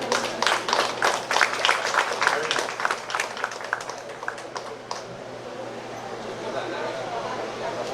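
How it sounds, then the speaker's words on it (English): An audience at a Moncada celebration applauds a group of young women: dense, close clapping that thins out and stops midway, followed by a quieter stretch of room noise. "another round of applause"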